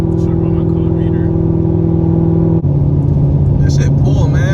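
A cammed C7 Corvette Z06 making 900 wheel horsepower drones loud and steady from inside the car, its engine note holding, briefly breaking, then returning with voices in the cabin.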